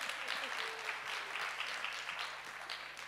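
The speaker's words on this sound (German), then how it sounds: "Vielleicht einen ganz, ganz großen Applaus an die Gebärdendolmetscher," An audience at a Green party primary event in Cologne applauds sign language interpreters with a steady, moderately loud wash of clapping throughout.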